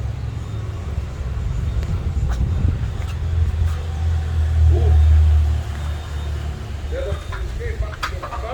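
Buses and other traffic pass along a city street, a low engine rumble swelling to a heavy roar midway and then fading, with distant voices and faint background sounds.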